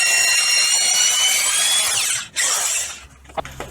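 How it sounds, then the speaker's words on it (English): A construction drill bores a hole in a car's metal body during a CO2 boost control install, whining loudly and steadily with a high grinding tone before briefly stopping and spinning up again with a few knocks near the end. "Couldn't find my regular drill, so construction drill for the win."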